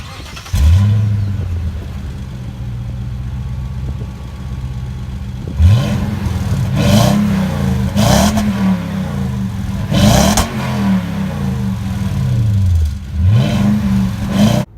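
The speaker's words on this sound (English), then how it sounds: "So to start it, just put the key in the ignition and turn on, obviously." A 2014 Toyota Tundra Limited pickup engine cranks and starts, then revs repeatedly in several rising and falling bursts, loud and close with a steady idle between.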